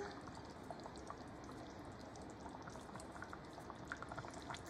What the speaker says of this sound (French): je mélange et je laisse mijoter une bonne dizaine de minutes.